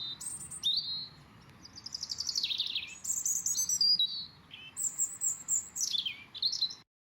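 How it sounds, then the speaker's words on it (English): Several birds chirp and whistle in bright, quick phrases over a soft, steady background hush. "the soft wind in the back and the birds chirping"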